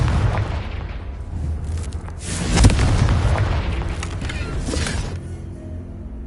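Confringo explosion spell going off in Hogwarts Legacy: a loud, rumbling boom that peaks sharply near the middle, surrounded by a dense, sustained roar of fiery crackle and smaller bursts, fading toward the end.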